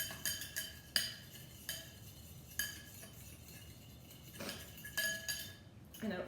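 A spoon stirs peanut sriracha sauce in a bowl, giving a series of sharp metallic clinks and scrapes at an uneven rhythm, close and fairly quiet.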